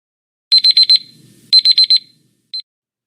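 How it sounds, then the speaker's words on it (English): A classroom timer alarm beeps loudly in a quick run of four shrill pulses, repeats the same four-beep pattern after a short gap, then gives one last brief beep in an otherwise quiet room. "so here comes my timer"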